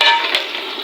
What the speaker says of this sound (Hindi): अब मैं इसके अंदर शामिल करने लगी हूँ चिकन, ताकि वो इन प्याज़ों के साथ अच्छे से हो जाए फ्राई